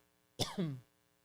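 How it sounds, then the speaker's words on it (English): One brief, close cough with a rough throaty burst, then quiet. "Sorry, I'm coughing."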